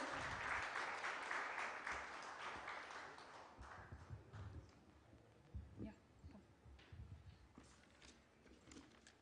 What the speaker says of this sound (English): Please give a round of applause to Sajanar sir.